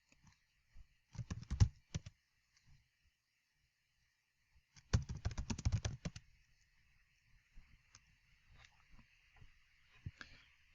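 Quiet clicking of a computer keyboard in two short bursts of rapid typing, with a few isolated keystrokes in between, close and soft against a faint background hum.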